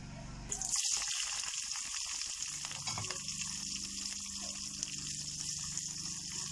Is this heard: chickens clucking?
no